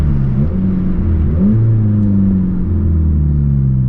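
A Mazda 3 car engine drops through gears, revs stepping down in pitch several times with a steady loud rumble, close by.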